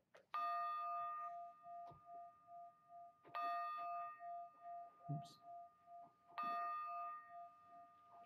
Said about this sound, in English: Three bells.